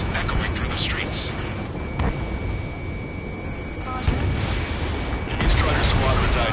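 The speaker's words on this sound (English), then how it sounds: "Gunfire and the roar of jets echoing through the streets." Gunfire and roaring jets in Ace Combat 7 form a dense, loud battle din of booms and rumbling engine roar with sharp bursts throughout, while a voice talks over the noise.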